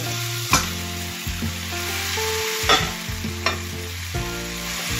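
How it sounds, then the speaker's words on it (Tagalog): Ground beef fries in a hot pan with a steady sizzle, punctuated by repeated knocks and scrapes from a utensil as the meat is stirred, close and clear with no talking. "ilagay natin itong beef na giniling"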